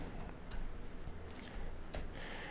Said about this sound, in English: Now all you would do is just type in your password into here.